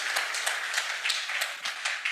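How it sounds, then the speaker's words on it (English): A conference audience in Zimbabwe applauds steadily, a dense wash of many hands clapping at an even level from start to finish. "a big round of applause for Engineer Muguti for unpacking this"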